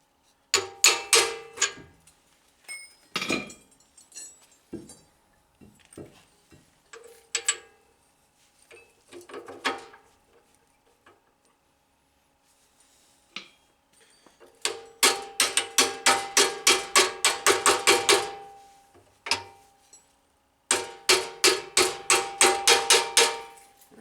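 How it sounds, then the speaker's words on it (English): Hammer blows in a blacksmith's shop while forging a pivot pin for a post vise: loud, close metallic strikes, scattered at first, then fast rhythmic bursts of a dozen or so hits with short pauses between. "Get a hammer."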